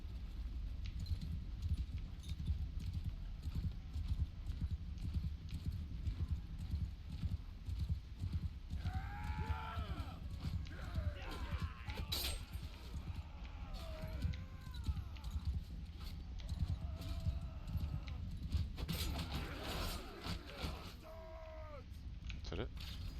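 Horse hooves clip-clop in the Mount & Blade II: Bannerlord video game during a battle aftermath, a steady trotting patter running through the clip beneath game noise, occasional whinnies and speech.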